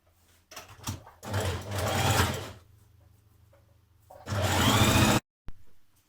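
Sewing machine stitching tiers of a Simplicity 1110 tiered skirt, two long bursts of fast mechanical whirring with a quiet pause between, close and clear.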